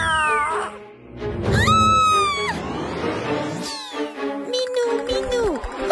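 A cartoon cat meows several times in drawn-out, sliding cries, some whiny like a caterwaul. Voices and busy cartoon sound effects come in around them.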